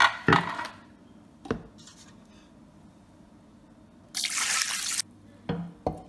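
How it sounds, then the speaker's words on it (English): Water pours from a tap into a pot of egusi melon soup with hen, heard as a brief splashy gush near the end, surrounded by a few short drips and knocks in a quiet kitchen. "So now it's time to add the water."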